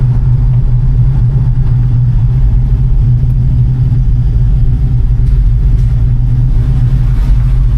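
An LS-swapped 1967 Chevrolet C10 truck cruises down the road with a steady, loud, low engine rumble and road drone throughout, no talking.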